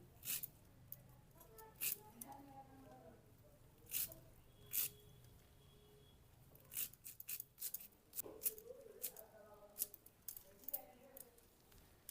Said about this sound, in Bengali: এখন আমি ধনেপাতাগুলো কেটে নেব।